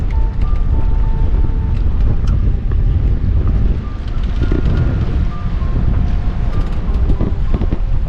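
Strong wind gusting at 28 to 30 knots aboard a sailboat at Saint-Martin roars continuously, buffeting the microphone with broad rushing noise and no talk.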